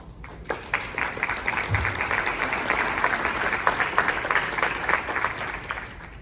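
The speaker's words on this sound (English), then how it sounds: "Give yourselves a round of applause." Audience applause at a Family Promise nonprofit event, a full, continuous round of clapping from a crowd that starts suddenly and holds steady throughout, with a few louder individual claps standing out.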